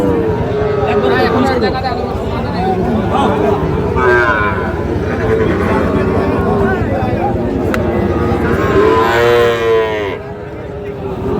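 Cattle moo repeatedly, several animals calling close by over a steady background of crowd chatter at a busy cattle market selling Sahiwal bulls and calves.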